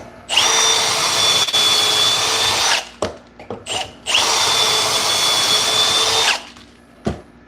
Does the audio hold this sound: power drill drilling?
yes